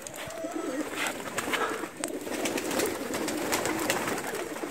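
A crowned pigeon cooing nearby, soft repeated coos over a steady outdoor background, with no voices.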